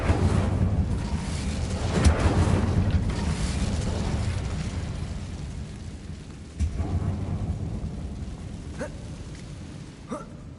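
A Bombarda spell blast from a Harry Potter video game, a deep rumbling boom at the start that fades into a low roar, followed by a few sharp crackles near the end.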